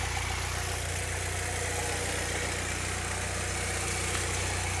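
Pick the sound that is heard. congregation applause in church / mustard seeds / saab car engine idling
saab car engine idling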